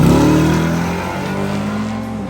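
A loud drag race car on a 150-horsepower nitrous kit, engine roaring close up and then slowly fading as it pulls away.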